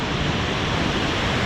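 Steady broadband rushing of the Kali river flowing along the India–Nepal border near Dharchula, a continuous even roar of water with no voices.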